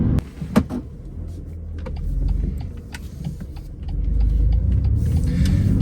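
BMW M2 CS sports car driving, with a steady low engine rumble and road noise from inside the cabin that swells and eases as it moves, plus a few sharp clicks near the start.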